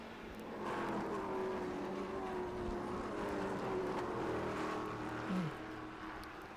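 Race cars, including a Ford Mustang, run at Laguna Seca. Engines drone at a distance, holding a steady note, with a brief rising rev near the end.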